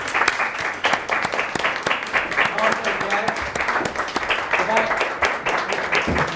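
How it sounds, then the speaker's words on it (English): A crowd at a Lions Club meeting breaks into loud, sustained applause for an honoured member, with dense clapping throughout and voices mixed in under it. "please stand up and give him a huge applause"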